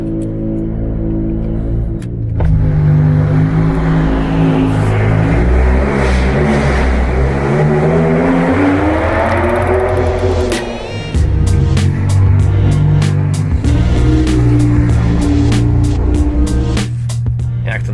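A BMW M6 E63 engine with Tubi Style exhaust revving hard at a racetrack, its pitch climbing and surging in loud, close bursts, then settling into a throaty idle with sharp pops.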